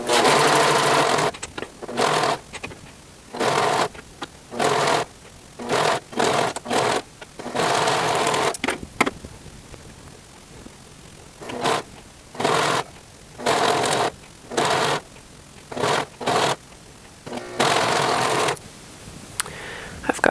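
A serger stitches the knit side seams of a T-shirt in a series of loud, close whirring bursts separated by short pauses, with a longer quiet gap midway, with no speech.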